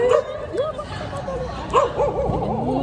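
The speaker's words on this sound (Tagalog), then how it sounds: "Maganda yung pag tumatawag yung aso." A dog barks and yips in short, excited bursts with whimpering tones, close by and fairly loud over a background of distant voices and outdoor noise.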